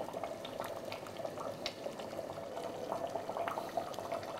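Mutton curry bubbles in a pot over a high gas flame, a faint, steady close-up simmer of popping bubbles without pause.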